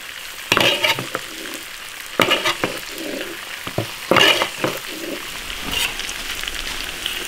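Beef feet frying with garlic and chili powder in a wok over low heat, with a steady crackling sizzle and a few louder bursts of stirring scrapes and clatter.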